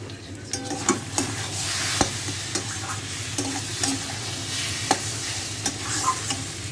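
Taro greens frying in oil in a home kitchen pan, with chickpea-like jackfruit seeds and shrimp, are stirred by a utensil, giving a steady low sizzle broken by irregular scraping clicks and knocks throughout.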